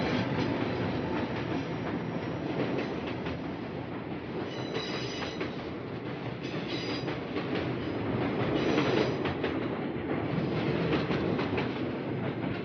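A train runs along the historic railway to Paranapiacaba station in Brazil, a steady, loud rolling rumble with clattering wheels and faint metallic squeals, continuous and close throughout with no talk.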